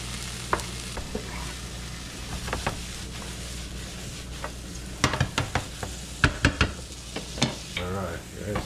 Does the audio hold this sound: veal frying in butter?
yes